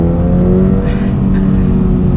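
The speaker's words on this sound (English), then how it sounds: "a second gear pull and see where we get to. Revs all the way out." A Toyota GR86 sports car on a dry UK road, its engine revving out in second gear with a steady, loud, droning pitch heard from inside the cabin and no talk over it.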